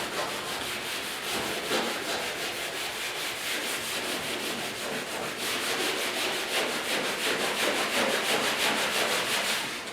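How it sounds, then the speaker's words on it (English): A scuff cloth rubs over the painted hood of a 1956 Mercury to prepare it for clear coat. The scrubbing is steady, close and continuous, with a fast repeating rasp and no talk. "because we're using a scuff cloth, it's actually scuffed in the paint here"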